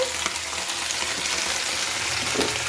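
Onions and potatoes frying in oil in a wok, a steady close sizzle with faint stirring scrapes and no talk.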